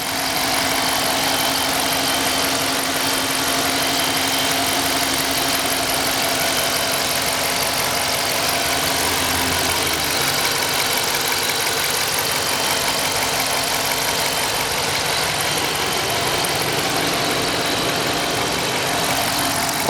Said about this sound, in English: The only thing you're gonna hear are gonna be the fuel injectors firing.